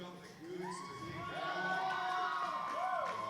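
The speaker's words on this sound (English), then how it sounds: "Cheer has gone out for Zerky and the Hustlers." Stadium crowd at a Tropicarnage Cup roller derby bout, Gladstone against Reef City, cheering and whooping for Zerky and the Hustlers. The cheer swells loudly and stays sustained, with shrill voices rising and falling above the general roar.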